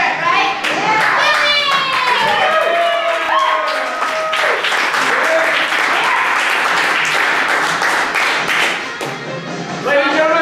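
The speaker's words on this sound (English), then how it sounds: "Ladies and gentlemen, big round of applause for everybody!" Loud, sustained audience applause and clapping with scattered cheers and whistles fills a Battlestations robot combat event in Philadelphia, continuous for the full stretch with a slight dip near the end; voices shout over the crowd.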